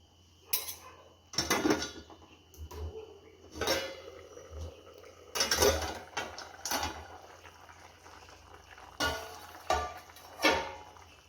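A metal lid comes off a cooking pot of simmering potato rassa curry, giving several sharp clanks and scrapes of metal on metal in a quiet kitchen.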